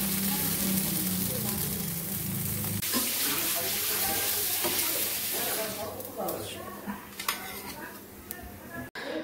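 Water pouring steadily from a tap during a bath, a bright continuous hiss that cuts off abruptly after about three seconds, followed by quieter splashes and handling sounds while someone speaks.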